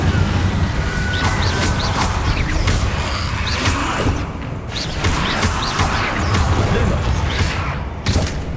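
Incendio fire spell cast in Hogwarts Legacy, dense whooshing flame bursts and thuds repeating over a steady rumbling game backdrop, loud and continuous with brief dips.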